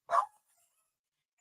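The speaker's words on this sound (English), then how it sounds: "Their dogs are having a meltdown" A single short dog bark rings out fairly close and loud, then fades into near silence with only a faint trace of a second yip.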